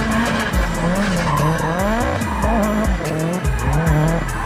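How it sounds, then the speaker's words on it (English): A Signal Auto drift car slides with loud, continuous tire squeal that wavers up and down in pitch, with a steady engine roar underneath and no voices. "For me, it was the Signal Auto guys that really got me into drifting."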